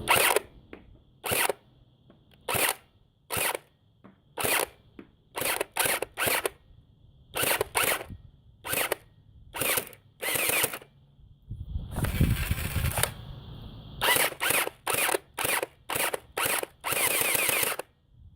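A Type 97 bullpup gel blaster toy rifle fires a series of sharp, separate shots with short gaps between them, loud and close, with a longer whirring motor burst midway and rapid shots near the end.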